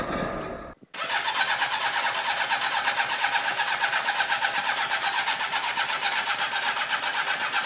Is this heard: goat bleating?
no